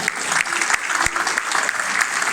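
A crowd claps loudly and steadily, a dense patter of many hands with no pauses.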